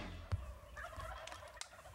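A Rio Grande wild turkey gobbles faintly from a distance below a bluff line on a spring hunt in Texas, one brief call over quiet outdoor ambience with no talking.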